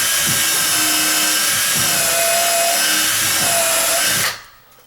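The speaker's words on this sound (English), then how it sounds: "So now I'm going to just keep drilling." A power drill runs loud and steady into a 2x4 for about four seconds at a sagging double door, then cuts off abruptly into quiet.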